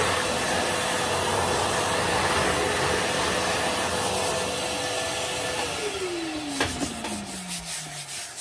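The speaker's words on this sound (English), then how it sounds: "take the Hoover." A Hoover vacuum cleaner runs steadily, cleaning sanding dust off a guitar after the rosette inlay is sanded flush. Near the end its motor winds down in a falling tone, with a few light knocks.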